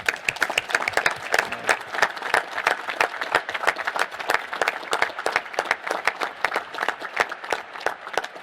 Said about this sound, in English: invite the crowd to join me in thanking these incredible Americans for their contribution to American leadership in space